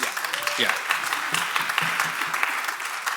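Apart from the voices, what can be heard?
audience round of applause for the tech team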